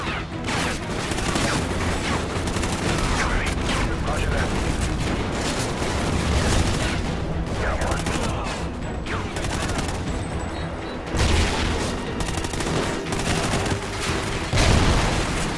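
Dense, sustained gunfire from the video game Xenophobia 2: loud overlapping bursts of automatic fire and heavy blasts roll on almost without pause, with only brief dips in the barrage.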